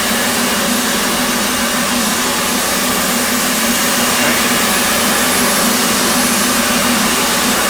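Steady, loud, unbroken whine and roar of an F/A-18C's right jet engine spooling up in a flight simulator, a constant broadband rush with no talk over it.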